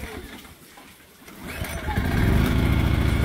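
Small portable generator engine, slightly wet and set on choke, catching and starting up, its low rumble building from quiet handling noise into a loud, steady close-up idle with no one speaking.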